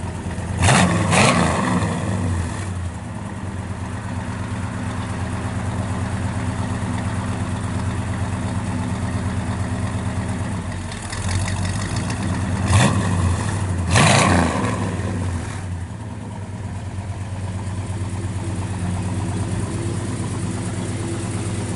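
A 1965 Oldsmobile Cutlass with a 422 engine idles with a steady, loud rumble, blipped into sharp revs near the start and again around the middle before settling back to idle.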